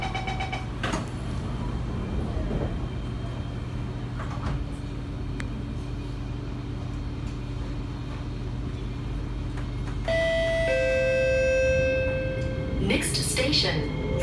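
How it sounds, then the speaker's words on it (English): Sliding doors on a Singapore MRT C751B train close with a warning chime, heard over steady rolling train rumble and cabin hum, the tones sounding near the end. "Doors are closing."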